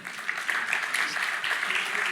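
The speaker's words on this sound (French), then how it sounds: "On peut l'applaudir aussi, s'il vous plaît." Fairly faint applause from an audience at a Paris round-table conference on electricity pricing, an even patter of clapping hands with no break.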